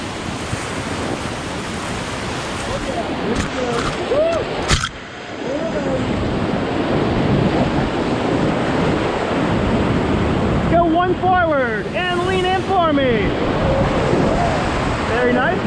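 Whitewater rapids on the Ocoee River roar steadily around a rafting boat, a constant close rush of churning water mixed with wind buffeting the microphone, while people's voices and shouts rise over it.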